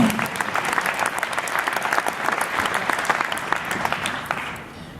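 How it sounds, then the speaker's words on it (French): An audience claps steadily at a tourism presentation, a dense even applause that tapers off toward the end. "on peut vous applaudir. On peut applaudir."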